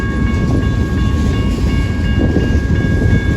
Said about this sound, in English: Man, this is a long train today.